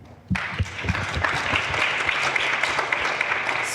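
A round of audience applause for panelists at a discussion panel on gun violence, breaking in suddenly and continuing as a steady wash of many clapping hands.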